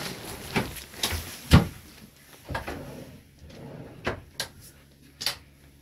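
A series of deep wooden drawers on a 2019 Azimut Magellano 66 yacht sliding open and shut, several distinct thumps and rumbles spread across the clip, fairly close, with no one talking.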